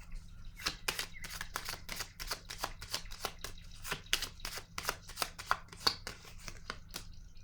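Tarot cards being shuffled and drawn by hand, a quick run of crisp riffling snaps and slaps close by, with no one speaking.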